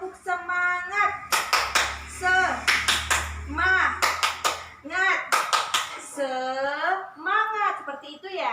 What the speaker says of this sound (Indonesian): Coba misal Ibu bilang tepuk semangat.